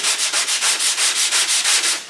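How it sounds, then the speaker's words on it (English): Steady back-and-forth sanding strokes scrape over cured body filler on a 2010 Citroen Berlingo's bodywork, about a dozen even rhythmic passes, close and fairly loud with no talking. "so we can start sanding."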